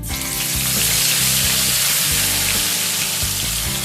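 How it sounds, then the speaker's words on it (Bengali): Medium-size sliced onion frying in hot oil for a Bengali mutton kosha, giving a loud, steady, dense sizzle that hisses continuously and close by for the whole stretch, with no voices. "এবার এই তেলের মধ্যে আমি এখানে একটা মিডিয়াম সাইজের স্লাইস করে কেটে রাখা পেঁয়াজ দিয়ে দিচ্ছি"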